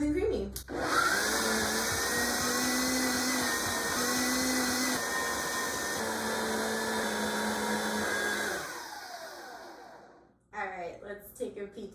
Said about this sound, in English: So we're just gonna pop the blender on.